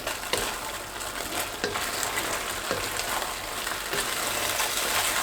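Fried chicken being stir-fried in a pan over a high flame for black pepper chicken, a loud, dense sizzle with repeated sharp scrapes and knocks of the spatula, no voices.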